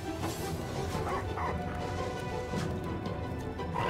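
Dog barking and yipping in the video game Divinity: Original Sin, mixed into a busy stream of game battle sounds with a few short whimpers and crashes, steady and fairly loud throughout.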